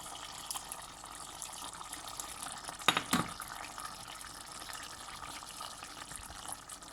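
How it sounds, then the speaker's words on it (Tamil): Dissolved tamarind water is strained into a Sri Lankan prawn curry with potatoes, a quiet steady trickle and pour with one brief louder splash partway through, and no voices. "இனி நாங்கள் கரைத்து வைத்த புளியை வடித்து விட வேண்டும்."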